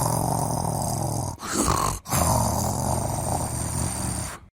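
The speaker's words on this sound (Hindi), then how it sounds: "एक से बढ़कर एक खर्राटे बाज है" A person snores loudly and steadily, deep rasping breaths filling the room with a brief pause between them, close to the microphone with no talking.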